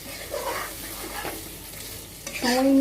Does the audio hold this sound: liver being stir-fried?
yes